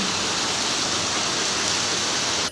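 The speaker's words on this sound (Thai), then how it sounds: "โคราชฝนตกแล้วครับ" Heavy rain falling in Korat, Thailand, a dense, loud, unbroken hiss of downpour that stays close and level throughout.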